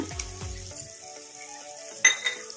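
Tomato masala with garlic paste frying for handi chicken, a soft sizzle with a few stirring scrapes near the start, then a couple of sharper metallic spoon-on-pot clinks, close by.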